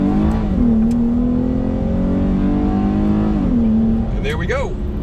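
A Dodge Challenger SXT V6 accelerates hard from a standing start on a street, its engine note climbing steadily through the revs, then dropping at an upshift and rising again, loud and close, with a voice talking over it.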